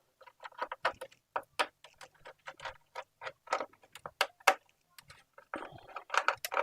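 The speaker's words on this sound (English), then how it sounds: "It's gonna take about 5 minutes unscrewing all of these." Screws are being unscrewed from a PS5 console during an HDMI port repair: rapid, irregular, close ticking and ratcheting clicks come in quick bursts with short gaps.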